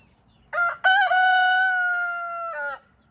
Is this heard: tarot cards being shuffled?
no